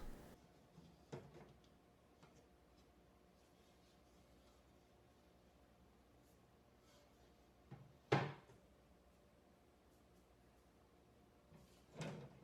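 Front sliding glass doors of a dart frog vivarium lifted out, giving a soft scrape near the start and two louder knocking clunks later, the last near the end, over a quiet room hum.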